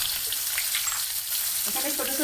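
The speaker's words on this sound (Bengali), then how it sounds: "দিয়ে উচ্ছেটাকে অল্প নুন দিয়ে লাল করে ভেজে নেবো" Bitter gourd fries with salt in mustard oil, a loud, steady, close sizzle that crackles continuously for a couple of seconds.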